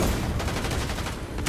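Dense, loud bursts of rapid gunfire crackling continuously in a Fortnite match, close and overlapping with no pauses.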